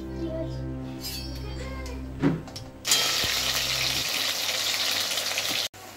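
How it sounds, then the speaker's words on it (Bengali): Potatoes and elephant foot yam sizzle in a hot pan at home, a steady broadband frying hiss that surges loudly midway and holds near and constant, with some voices and clatter early on. "ভাজছে আলু ভাজা, আর ভাজছি ওল ভাজা।"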